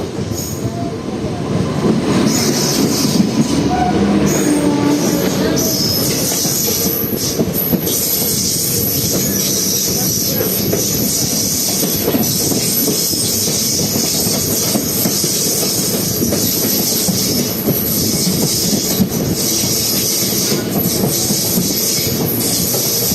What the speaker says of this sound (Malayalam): പാലരുവി എക്സ്പ്രസ് അങ്ങനെ ആലുവ റെയിൽവേ സ്റ്റേഷനിൽ